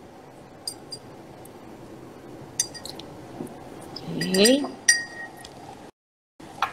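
A metal spoon clinks against a drinking glass as vinegar is poured in, giving a few sharp isolated clinks, then a brief louder pouring and clattering burst, with a short spoken word.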